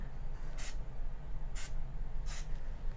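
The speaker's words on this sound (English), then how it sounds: "I sprayed the outside, yeah." Cooking spray from a can of Pam hisses onto a surface in three short, evenly spaced bursts, close and fairly loud over a low background hum.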